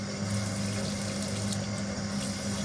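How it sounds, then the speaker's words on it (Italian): Fairly hot water poured steadily from a container during panettone preparation, a continuous close splashing, gurgling flow without pause. "Quindi andiamo a prendere dell'acqua piuttosto calda"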